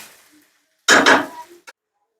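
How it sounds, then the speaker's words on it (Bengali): A spatula or utensil scrapes and clatters through boiled chow mein noodles mixed with lightly fried ingredients in a pan, a short close burst of stirring followed by a single small clink. "তো এখানে আমি চাউমিনটাকে খুব ভালো করে মিশিয়ে নিয়েছি পুরোটা উপকরণের সঙ্গে"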